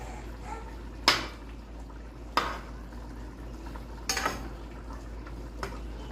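Trinidad curry chicken and potatoes with chive and shadow benny are stirred in a pot. A few sharp spoon-on-pot clanks and scrapes stand out over a quiet simmering background, with no talking.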